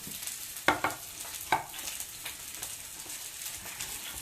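Vegetables including peppers and thinly sliced yellow squash sizzle steadily in a hot pan, a constant hiss broken by two sharper stirring scrapes, with no voices.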